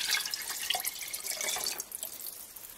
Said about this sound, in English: And then we're going to pour it into a mason jar.